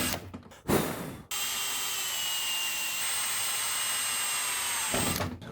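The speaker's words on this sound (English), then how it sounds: "Let's go ahead and start drilling some holes." A power drill bores holes through a carbon fiber airbag delete panel in a boosted F23 Honda Accord. It gives a loud, close, steady whine lasting about four seconds, with brief handling noises before and after.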